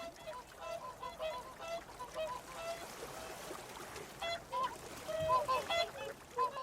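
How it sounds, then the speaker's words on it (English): Whooper swans wintering in Norfolk on Britain's eastern shore give a chorus of repeated honking, bugling calls, moderately distant over faint splashing water, rising into a louder burst near the end. "These whooper swans have spent their winter in Norfolk on Britain's eastern shore."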